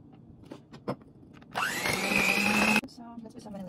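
An electric mixer beating egg yolks, sugar and butter, whirring loudly for just over a second with a rising whine, with soft talk and clinking before and after it.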